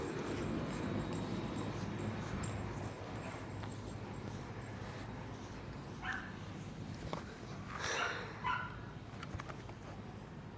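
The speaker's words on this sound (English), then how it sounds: "dog in the background" A dog barks a couple of times in the background, short and fairly distant over a steady hum, with a brief whimper or yip among the barks.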